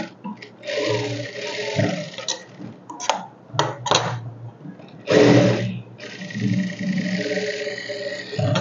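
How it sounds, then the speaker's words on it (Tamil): Overlock sewing machine running in bursts while stitching the shoulder seam of a chudidar, a steady mechanical whir that starts and stops several times, close and fairly loud. "அதனால் ஷோல்டருக்கு ஓவர்லாக் போடணும்."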